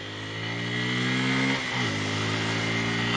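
Bajaj Pulsar 250 motorcycle engine under way, a sustained loud buzzing drone with a brief rev change midway before settling back to a steady pitch.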